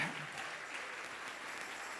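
Church congregation applauding together during a sermon, a steady dense wash of clapping filling the space from start to finish with no talk on top.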